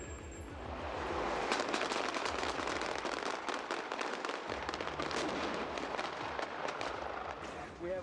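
Explosion in an action scene of a crime film, set off by a sniper droid's big 20mm cannon firing at a driver, heard as a rush of crackling, popping bursts lasting several seconds while someone narrates over it.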